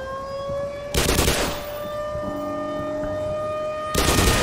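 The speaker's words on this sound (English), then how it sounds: "if I could get away from that siren" Black Mesa's alarm siren holds a steady tone across the clip, with two loud bursts of gunfire in the game cutting in at the start and end.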